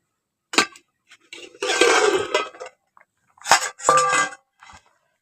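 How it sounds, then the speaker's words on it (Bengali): A lid is set on a cooking pot of boiled elephant foot yam, producing metallic clanks and scraping clatter in a few short bursts, close and loud. "ওলগুলো দিয়ে এবার ঢাকাটা দিয়ে দিচ্ছি।"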